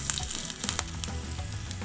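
Grated ginger hits hot oil in a pan, setting off a lively close sizzle with quick crackling pops throughout, steady and loud, no speech.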